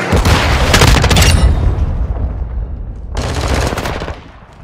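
Loud cruise missile blast and bursts of automatic gunfire in a Modern Warfare 2 team deathmatch on the Zarqwa Hydroelectric map, a dense rumbling barrage that fades around the middle, then flares again before trailing off.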